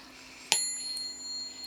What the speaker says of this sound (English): Ringing the bell here, clearing the space.